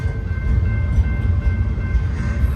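A freight train rolls past in Lower Sworthout Canyon, a steady, loud low rumble of wheels and cars with a faint tonal squeal running throughout, heard close and alone without voices.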